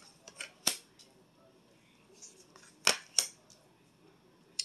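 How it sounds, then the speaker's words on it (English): Sharp snapping and slapping clicks of tarot cards being laid down on a surface, a few separate hits spread out, close and crisp in a quiet room. "I'm going to lay them out right now."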